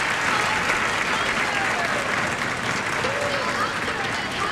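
Dense crowd applause fills the whole stretch at a steady, loud level, a broad wash of clapping after the spectacular opening of Singapore's 2001 National Day Parade, with faint voices mixed in.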